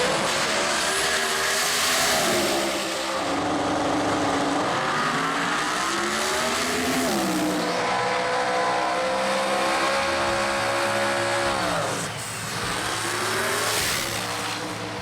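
Pro Mod drag racing cars scream down the strip at an Australian drag meet, loud and close, with engine notes that climb through the gears, drop away, then rise again on another pass, and no talking.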